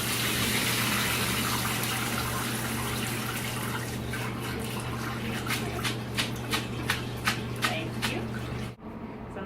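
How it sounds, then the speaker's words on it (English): Cooked pasta and its water pour into a colander in a steady, loud gushing rush that fades into a few splashy trickles before stopping abruptly. "So you just strain it into a colander."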